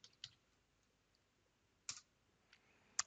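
Scattered keyboard key clicks, a few isolated taps separated by quiet pauses, close and faint.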